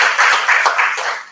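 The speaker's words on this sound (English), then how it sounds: "a round of applause" Conference audience at a Sathya Sai retreat session bursts into a short, dense round of applause, close and bright, clapping in uneven waves.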